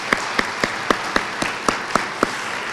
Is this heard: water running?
no